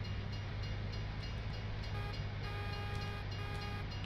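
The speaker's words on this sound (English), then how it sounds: "Alright, train's gone." A train in a farming simulator game rolls past in a continuous broad rumble with a steady low hum and faint tonal whine, heard at a distance and fairly quiet throughout.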